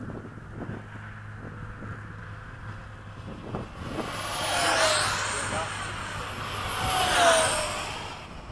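F-16 fighter jets flying in a midday high-alpha formation, a roaring jet engine sound with two loud swelling passes over steady wind buffeting on the microphone, no talking heard.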